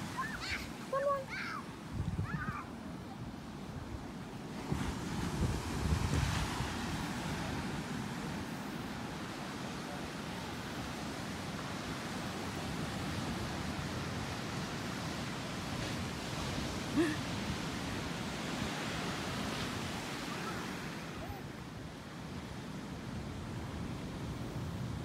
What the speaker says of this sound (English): walk down the beach